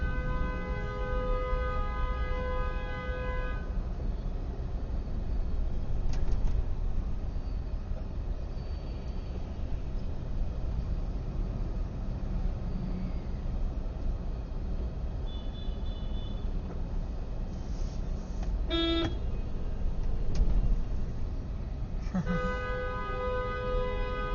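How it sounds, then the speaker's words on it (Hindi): Car and truck horns honk repeatedly in a traffic jam on a Haryana-to-Delhi road, with long sustained blasts at the start and end and shorter toots between over steady engine noise. "बंदा हॉर्न बजा रहा जाम के अंदर"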